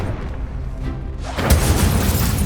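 A Confringo spell blast in the video game Hogwarts Legacy erupts as a loud, booming explosion that swells midway and rumbles on, with no speech heard.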